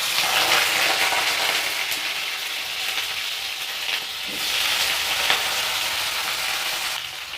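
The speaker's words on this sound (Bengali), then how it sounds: "সিমটা ভেজে নেব।" Flat beans (sheem) frying in hot oil in a wok, a loud, dense and continuous hissing sizzle that swells slightly midway, with no speech.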